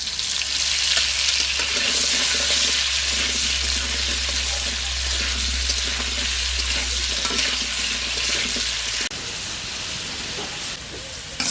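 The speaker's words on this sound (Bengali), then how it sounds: "আলু লাল লাল করে ভাজা হয়ে গেছে" Salted potato pieces fry in hot oil in a pan, giving a loud, steady, continuous sizzle with occasional stirring; the sizzle briefly changes near the end.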